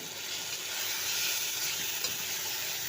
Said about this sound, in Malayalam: അപ്പോൾ ഇത് തക്കാളി നന്നായിട്ട് വെന്തുടയുന്നുണ്ട്.